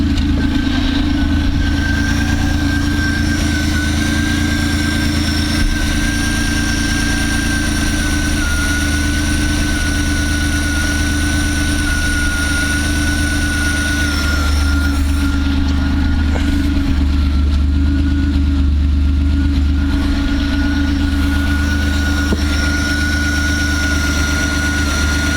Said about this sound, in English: I think I want it idling at about 900.